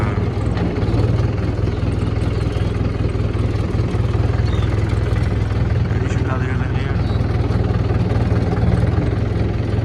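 A tractor engine pulls an 8-foot rotavator through a field, making a steady, loud low-pitched drone with a constant rumble that holds for the whole stretch.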